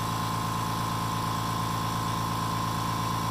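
A Harbor Freight Fortress 2 gallon 1.2 HP air compressor runs continuously nearby, a loud, steady motor drone with a sustained whine and even vibration throughout.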